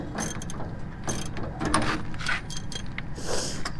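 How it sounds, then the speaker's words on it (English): Wrench ratcheting on an Andersen weight distribution hitch, a run of quick close metallic clicks in short bursts, with no talking. "This is when we pull the wrench."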